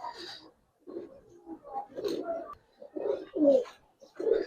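Pakistani pigeons coo in repeated, soft throaty bursts, close by and fairly clear, with short pauses between calls.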